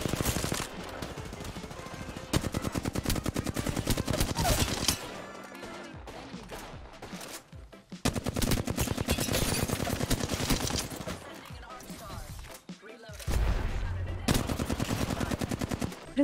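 Rapid automatic gunfire from an Apex Legends match, loud bursts of shots in several long volleys with brief lulls between them, some talk faintly mixed in.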